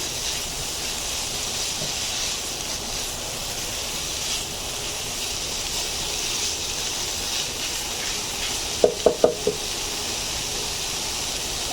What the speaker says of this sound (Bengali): ক্যাপসিকাম দেওয়ার পর আমি কিছুক্ষণ এক মিনিট মতো ভাজবো